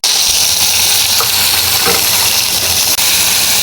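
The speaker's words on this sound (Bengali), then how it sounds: "পেঁয়াজ ভাজা হয়ে গেছে, এর মধ্যে আমি পেঁয়াজ বাটা দিয়ে দিব।" Onion paste hits hot oil and chopped onions already fried in a wok, giving a loud, steady sizzle and crackle throughout, with no talking.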